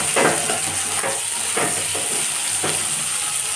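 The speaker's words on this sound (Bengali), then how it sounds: "পেঁয়াজটা আমি লাল লাল করে ভেজে নেব।" Four medium chopped onions fry in hot oil after the spices have gone in, giving a loud, steady sizzle with a few stirring scrapes.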